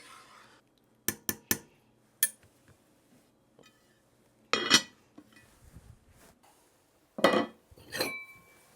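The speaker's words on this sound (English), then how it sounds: "I'm just going to put the lid on this, keep it on low to keep it warm" A lid goes onto a pot of simmering tomato soup, giving a few sharp metallic clinks and clatters with quiet gaps between them, fairly close and heard alone.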